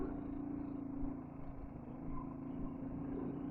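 A car climbs a mountain road near Hatu Peak in Himachal in second gear, a steady low engine drone that swells slightly under acceleration, heard from inside the cabin and fairly quiet.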